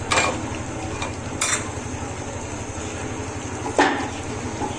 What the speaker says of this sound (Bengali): শালগমটা দেওয়ার পর আমি এখন মাংসটাকে কষিয়ে নিব